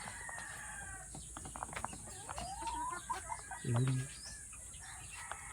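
Texas gamefowl chickens cluck and crow outdoors on a farm, a drawn-out crow rising mid-clip and a loud low squawk near the end, with someone speaking briefly over the birds.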